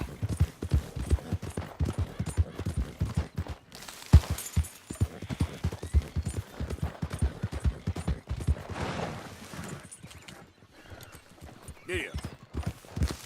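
Horse hooves clip-clopping at a steady gait in Red Dead Redemption 2, a continuous close rhythmic patter with a rider's voice speaking briefly over it.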